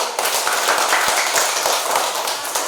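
A school class claps together for a student group, a brisk, fairly close burst of many hands with sharp individual slaps, lasting a few seconds without talk.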